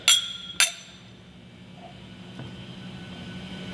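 Two bright glass clinks ring out close together in a whiskey toast of Chattanooga Whiskey, the second following about half a second after the first, then fade into a quiet room hum.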